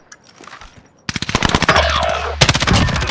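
Call of Duty Modern Warfare gunfire from snipers erupts after a quiet second, with dense rapid shots that cut through a steady low rumble and stay loud and close to the end.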